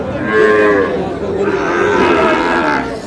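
A Sahiwal bull or cow at a crowded livestock market gives two loud, close, drawn-out moos in quick succession, with faint crowd murmur underneath.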